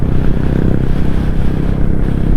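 A motorcycle cruises along an expressway on a long-distance ride, its engine droning low and steady up close with continuous wind and road rumble and no talking.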